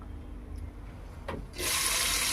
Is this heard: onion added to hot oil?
yes